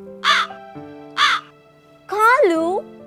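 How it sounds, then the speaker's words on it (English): Crow cawing in a children's story episode: three loud, harsh caws close by, the last one longer and drawn out, with no talk over them. "Kalu, the crow."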